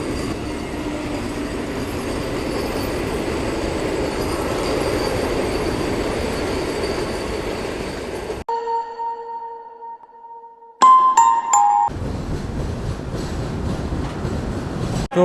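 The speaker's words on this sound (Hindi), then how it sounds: "सिकंदराबाद और तिरुपति के बीच चलने वाली वंदे भारत एक्सप्रेस। तो चलिए उसका क्रॉसिंग देखते हैं।" Sixteen-coach Vande Bharat Express running between Secunderabad and Tirupati, heard crossing past a halted train near Nalgonda, a loud continuous rushing rumble of passing coaches, a brief quiet gap with tonal hums and squeals, then the rumble resuming.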